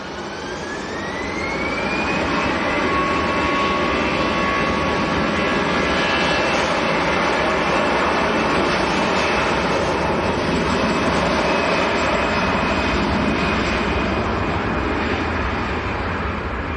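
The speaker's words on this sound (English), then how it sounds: "That was EasyJet to Rome in Italy." An EasyJet passenger jet lands at Manchester Airport with a loud, steady, close roar of jet engines and a rising engine whine, sustained throughout with no speech.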